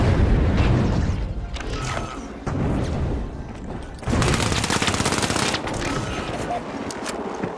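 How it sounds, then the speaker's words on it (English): Pyro grenade blast in the game The Finals, amid loud rapid gunfire and booming bursts that cut in and out in several dense, harsh sections. "Throwing pyro grenade!"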